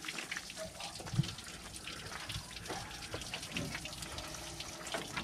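Water gushes and splashes steadily while a radiator is being flushed on a 1974 Dodge W200 truck, a continuous rushing stream with faint voices and scattered clanks in the background.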